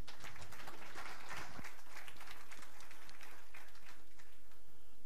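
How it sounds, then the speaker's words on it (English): Spectators at a women's 10m air rifle standing SH1 shooting final in Chateauroux applaud, a dense patter of clapping that starts strong and thins slightly toward the end. "Come on, give me your applause."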